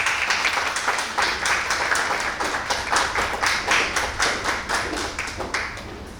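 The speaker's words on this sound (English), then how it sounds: "Round of applause, please." Audience applauding a woman panelist introduced at a women-in-business panel discussion: steady, dense clapping from a room full of people, with rhythmic surges of claps carrying on throughout without any talking.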